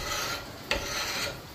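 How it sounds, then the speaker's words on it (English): A steel scraper with a 90-degree edge rasps varnish off the wooden handle of a double bit axe in steady close, loud scraping strokes, with one sharper catch midway. "Scrape all that varnish off."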